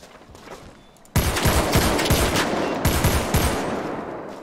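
Rapid automatic gunfire from a Call of Duty video game opens abruptly after a quiet moment, then keeps up as a loud, dense stream of close shots with repeated heavy bursts.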